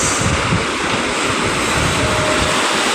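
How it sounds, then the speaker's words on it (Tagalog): Strong waves rising suddenly at Manila Bay in Navotas as a storm moves out, a loud, continuous roar of surf mixed with wind buffeting the microphone. "Ngayon po biglang lumakas ang alon."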